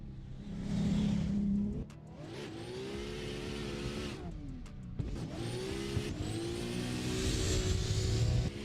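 Custom BMW E92 drift car engine revving hard at a drift qualifying event, loud and close, with repeated surging revs, dips and rises and a sustained high-rpm scream toward the end.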